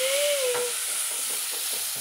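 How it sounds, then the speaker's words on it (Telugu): Tomatoes fry in a hot pan with a steady, fairly quiet sizzle and hiss, a faint whistle-like tone near the start, and soft stirring scrapes underneath. "టమాటాలు వేయాలి, అవి బాగా కాలాలి."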